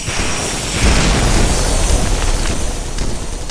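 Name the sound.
airstrike explosion in Red Crucible Firestorm video game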